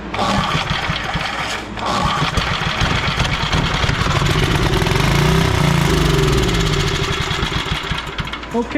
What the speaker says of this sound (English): Okay, we got a good engine and we got a good alternator, so we can go further with it now.